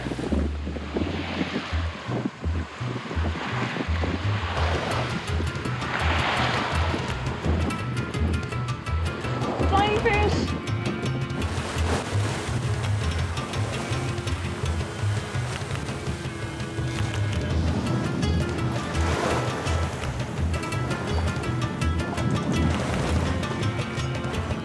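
Rough ocean waves slap and wash against a sailboat's hull as it pushes through a choppy cut, under constant heavy wind buffeting the microphone, with occasional faint voices.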